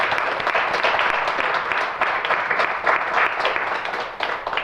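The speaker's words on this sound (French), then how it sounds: "Ils vont nous donner cette preuve en acclamant chaleureusement sur ce point." Pilgrims applaud warmly, a dense, steady wash of crowd clapping that holds at full strength throughout with slight swells and no voices rising above it.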